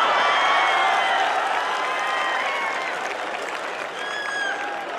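An audience at a Bollywood-night comedy show claps in a thick, sustained burst, loud at first and easing slightly, with scattered cheers and faint whistles mixed in.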